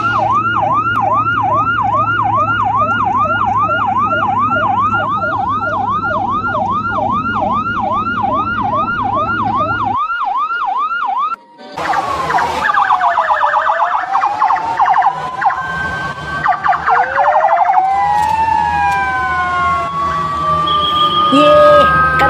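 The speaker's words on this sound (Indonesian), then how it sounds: "Ada mobil ambulan teman-teman." A toy ambulance siren wails in a fast, regular warbling cycle for about ten seconds, then cuts out and gives way to clattering handling noises and rising and falling electronic tones.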